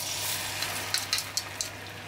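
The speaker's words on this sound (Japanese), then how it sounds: "四つ葉のバターをフライパンの上で溶かしたら" Yotsuba butter melts in a frying pan with a soft, continuous sizzling hiss, topped by a few quick crackling pops near the middle, close and fairly quiet, with no voices.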